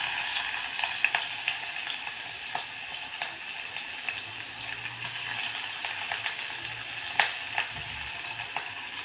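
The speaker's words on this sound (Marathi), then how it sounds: "कांदा व्यवस्थित असा परतून घ्यायचा आहे" Chopped onions with cumin sizzle and crackle steadily in hot oil in a pan for Khandeshi matki dal, with faint stirring clicks and scrapes of a spoon, close and continuous with no talking.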